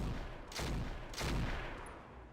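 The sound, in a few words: mech weapons firing in video game Roguetech (BattleTech)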